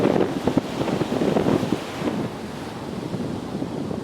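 Strong wind buffets the microphone on a beach, a steady roaring gust with surf rumbling underneath throughout.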